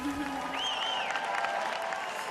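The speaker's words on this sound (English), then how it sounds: "Let's give them one last round of applause." A crowd at the Miss Universe 2020 pageant claps steadily and continuously throughout, a dense wash of applause with scattered cheering.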